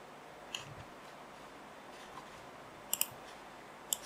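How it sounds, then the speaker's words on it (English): A few faint, sharp mouse clicks, including a quick double click, on the install button while setting up Blender 2.8 on a computer, over a quiet background hiss. "So I'm just clicking on the install button"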